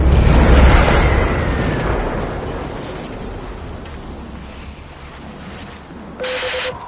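A heavy cannon blast in the Warframe video game opens with a loud deep boom that rolls off into a long fading rumble, followed by a brief electronic tone near the end.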